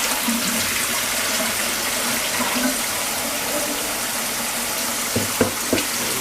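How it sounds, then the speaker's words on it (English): Produce is rinsed under a running kitchen tap, giving a steady close rush of water with a few clattering knocks near the end. "And I rinse them thoroughly, guys."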